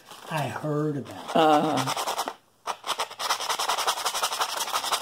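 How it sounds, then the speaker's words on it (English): Rhythmic scratchy sanding strokes rasp back and forth as excess is sanded off a handmade one-needle knitting tool, first under a talking voice, then continuing alone in quick, regular passes. "The scratching sound you hear in the background is me sanding excess off the finished tool"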